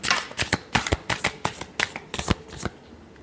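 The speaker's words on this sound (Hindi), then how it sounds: "Last shuffle." Tarot cards are riffled and shuffled in quick crisp bursts, about a dozen sharp flicking pulses close up, with no other sound.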